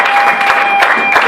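Church congregation clapping and cheering at an evangelism gathering in Brussels, a brief dense burst of applause with scattered hand claps, loud and close.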